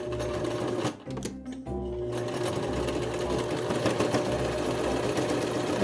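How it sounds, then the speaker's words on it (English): A sewing machine stitches a straight seam through fabric for a bat wrap. The whirring is loud, steady and close, and it pauses briefly near the start before running on without a break. "And I'm gonna stitch that straight down."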